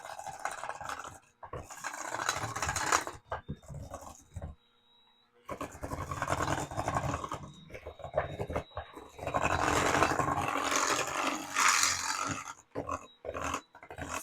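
An electric mixer beats cookie dough with molasses, eggs and vanilla, giving a loud, uneven whirring and grinding that stops briefly in the middle, then carries on.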